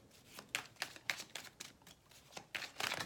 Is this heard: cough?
no